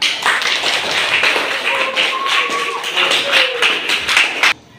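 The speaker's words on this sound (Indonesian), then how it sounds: "Selesai tepuk tangan." Students in a classroom clap their hands in a brisk, continuous burst of applause that stops abruptly, with a faint voice under the clapping.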